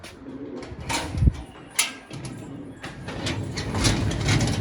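Two freshly caught homing pigeons coo softly and close by, with low bursts and rustling from the birds and a faint engine hum in the background.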